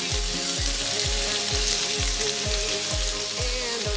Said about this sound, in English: The zucchini you have to cook only 7 or 8 minutes because the zucchini is very easy to cook.